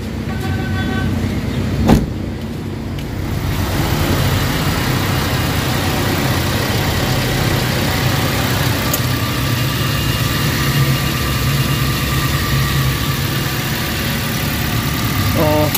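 A Toyota Avanza engine, just repaired for a check-engine fault, idles steadily and close by, a low continuous hum with one sharp click near the start.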